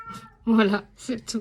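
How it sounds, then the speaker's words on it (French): A pet cat named Abyss meows close by in a few short calls, partly overlapping a woman's speech. "Abyss, c'est mon chat."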